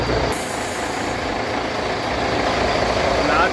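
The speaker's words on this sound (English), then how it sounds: "Now it's busy draining the pump." A fuel tanker truck pumps a compartment dry: a steady mechanical drone with a brief high hiss near the start, continuous and fairly loud throughout.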